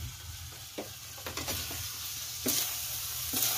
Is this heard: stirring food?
yes